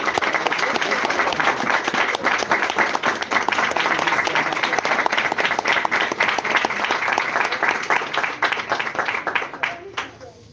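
A church congregation applauds with loud, sustained clapping, the individual claps dense and rhythmic throughout, then trailing off into quiet at the very end.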